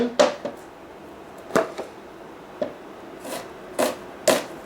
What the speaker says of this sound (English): we're going to cut up our onion. Now we want this onion to be small.